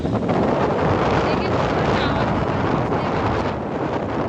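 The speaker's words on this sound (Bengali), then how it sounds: "আর এখানে এত হাওয়া দিচ্ছিল, আমি ভাবছিলাম হয়তো শোনা যাবে, কিন্তু এখানে আমার আওয়াজ কিছুই শোনা যাচ্ছিল না, এতটা পরিমাণে হাওয়া দিচ্ছিল।" Strong sea wind at Digha beach buffets the microphone in a loud, continuous roar that swamps everything else, with faint surf underneath.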